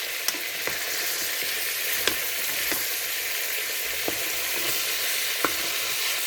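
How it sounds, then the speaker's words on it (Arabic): Onions frying in a pan while being stirred, a dense, loud, continuous sizzle with occasional soft scrapes and taps of the spoon, close up and with no talking. "هذا نبقى ندور فيه باش ما يسقناش وباش يتحمر طاحتي"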